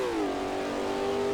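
Race car in Assetto Corsa at the Reims circuit braking and shifting down, engine note dropping in pitch then holding a steady drone, loud and close with no talk.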